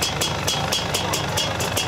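A motorcycle engine idles steadily close by at a sand bike race, a low rumbling drone with rhythmic bursts of brighter noise pulsing roughly every quarter second.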